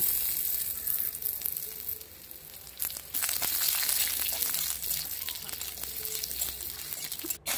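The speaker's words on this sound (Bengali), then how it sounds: "ওই তেলে আলুগুলো ভেজে নেব" Potatoes fry in the same hot oil used for lentil fritters, giving a steady broadband sizzle and crackle that carries through the whole stretch, with a brief drop near the end and faint background voice.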